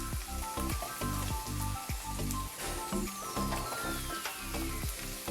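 Onion and chilli sizzle in a pan with ginger garlic paste while coconut rice and chicken curry are being cooked, giving a steady loud frying hiss with repeated stirring knocks throughout.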